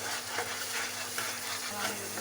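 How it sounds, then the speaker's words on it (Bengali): Black cumin, tomato, green chilli and onion paste frying in oil in a kadai, a steady close sizzle and hiss running unbroken throughout with faint stirring. "কড়াইয়ে তেল দিয়ে দিল, ফোড়নে কালো জিরে দিয়ে দিলাম, তারপরে টমেটো, কাঁচা লঙ্কা আর পেঁয়াজ বাটা দিয়ে দিলাম।"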